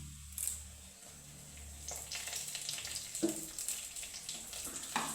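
Curry leaves drop into a pan of softening onions for a South Indian rasam, setting off a steady, close sizzle and crackle of frying with a brief stir partway through and no talking.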